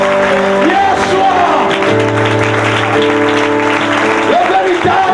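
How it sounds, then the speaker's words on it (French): A church congregation applauds and cheers in a dense, continuous wash of clapping, with loud shouts and voices rising over it throughout. "Acclame-le encore! Yeshua!"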